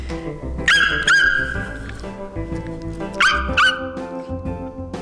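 A person imitates a dog barking, giving two loud, yelping barks a couple of seconds apart, close up with a little room noise.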